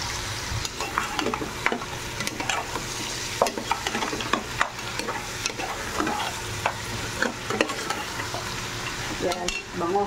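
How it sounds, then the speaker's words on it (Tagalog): Pork hock being stirred in a sizzling pan while cooking a mung bean dish, with repeated scraping strokes and soft clinks over a continuous frying hiss. "Ihalo na natin yung ating pata."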